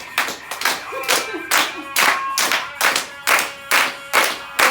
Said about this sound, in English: All right, we're gonna clap.